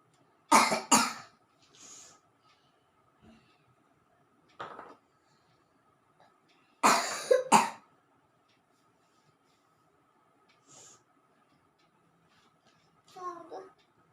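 Several bursts of harsh coughing, two loud close fits separated by quiet, with a few fainter coughs and small vocal sounds in between.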